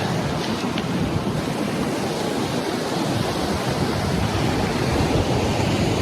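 Ocean waves wash onto a beach along the West Coast Trail between Port Renfrew and Bamfield, making a steady, loud surf roar with no voices.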